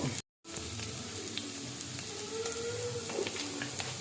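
Chicken pieces fry in a pan for a crisp chicken roll. A steady, close sizzle runs throughout, with one brief dropout near the start and no talking.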